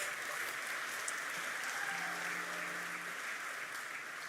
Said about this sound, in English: Round of applause there, please